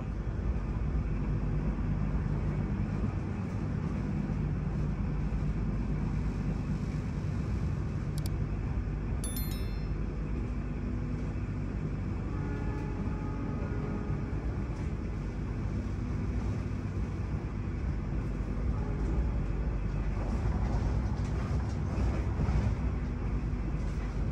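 Steady, low rumble of the KA Sembrani luxury passenger train running on the northern line as it passes through Cikampek station in Indonesia, heard from inside the carriage. The drone is constant and moderately quiet, with brief faint clinks near the start.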